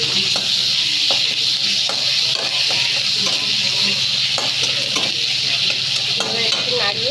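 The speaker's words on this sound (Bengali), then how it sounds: "ক্যাপসিকামটাকে হালকা করে ভেজে নিচ্ছি" Capsicum and grated raw mango fry in a pan with a loud, continuous hiss, while a spoon stirs through with soft scrapes and taps up close.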